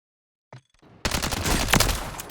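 An automatic meta-loadout rifle fitted with a Lachmann Recon stock fires in Call of Duty Warzone: a faint click, then a sudden loud, sustained burst of rapid shots that rattles on without pause.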